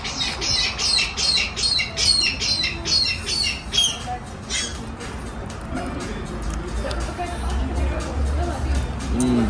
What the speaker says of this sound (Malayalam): ഒരു കിളി.